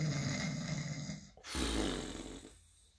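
Cartoon donkey snoring in a children's story, a loud rasping inhale followed by a deep rumbling snort, with no talk.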